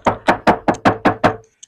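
Bare sheet-metal panel of a Hyundai Stargazer being knocked by hand, seven quick, even raps in a row with a hollow, tinny ring, close and clear, then a faint last tap.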